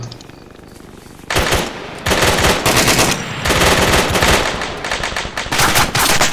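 Heavy automatic gunfire in the military shooter ARMA 3. After a quieter opening it erupts loud and close in dense sustained bursts, separated by brief gaps.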